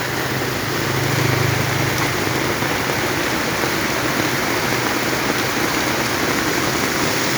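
Heavy rain pours down in Savannakhet as a dense, steady hiss of water, loud and close, unbroken for the whole stretch and with no talking.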